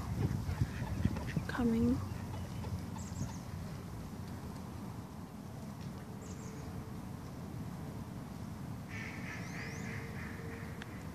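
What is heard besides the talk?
ducks quacking while coming for food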